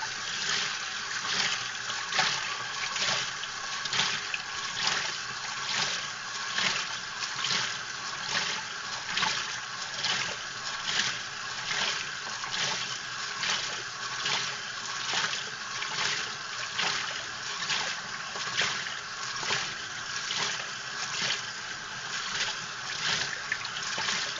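Dirty sponges being rinsed in running water, a steady continuous splashing and trickling with rhythmic pulses as they are squeezed and swished, fairly close and alone.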